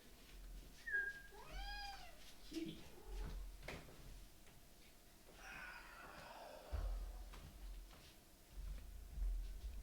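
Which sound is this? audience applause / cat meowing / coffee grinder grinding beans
cat meowing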